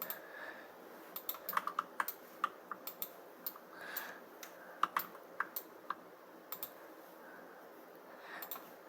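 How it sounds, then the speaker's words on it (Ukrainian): Computer keyboard typing with scattered mouse clicks, a steady run of light, close key taps and clicks in irregular bursts over a quiet room background, with no talking. "вибачаю за те, що ви може чуєте звуки мишки, клавіатури"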